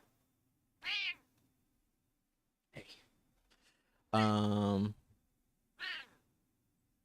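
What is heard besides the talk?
cat meowing for attention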